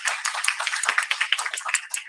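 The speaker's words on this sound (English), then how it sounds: "I do want to have everybody give a round of applause to our returning superintendent, Matt Stacy" A small group at a village board meeting claps for a returning superintendent, close, crisp individual hand claps in a quick, uneven patter for about two seconds.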